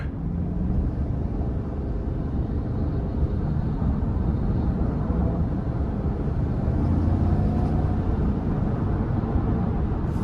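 A 2023 Chevrolet Suburban High Country with a 6.2-liter V8, driven in sport mode, fills the cabin with a steady, loud low engine and road rumble. The drone swells slightly partway through, with no talking.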